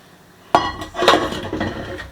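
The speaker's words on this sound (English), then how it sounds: "I'm going to dump it out. Get all that stuff out of the bowl." Sweet pastry dough dumped from a bowl onto a bench lands with a sudden thud, followed by a second knock and a couple of minutes of scraping and clattering against the bowl, close and fairly loud.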